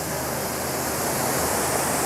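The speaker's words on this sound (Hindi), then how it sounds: "और ये पानी की आवाज़ आपको आ रही होगी।" Waterfall at Kohala near Muzaffarabad in Kashmir, a steady, dense roar of rushing water that stays loud and unbroken throughout, with no voices over it.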